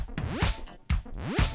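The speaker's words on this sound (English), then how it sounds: "They sped up the zipper." A sped-up zipper in a song, two quick rising zips with bright whooshing sweeps set in electronic music, each burst sharp and close.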